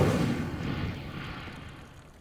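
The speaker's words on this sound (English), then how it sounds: "Incendio." An Incendio fire spell cast in the game Hogwarts Legacy bursts with a heavy, rumbling whoosh that starts loud and slowly fades away over about two seconds, with no voices.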